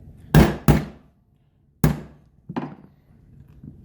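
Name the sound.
tapping Aero Precision Atlas rail into place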